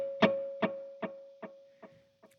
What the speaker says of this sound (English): And for this one, I'm going to add in a dotted eighth on my El Capistan.